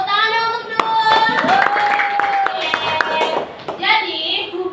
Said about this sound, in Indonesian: Tepuk tangan dong untuk Dul.